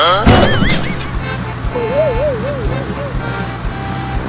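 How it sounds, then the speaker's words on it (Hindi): A cartoon tempo vehicle speeds along with a rumbling engine, overlaid with warbling, whistle-like sweeping tones and a quick zip at the start, while voices chatter underneath. "अरे कलुआ, तू तो टेम्पो को बहुत तेज चला रहा"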